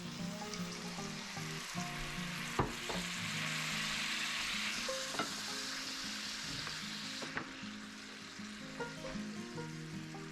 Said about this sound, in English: Then add in the broth and cream.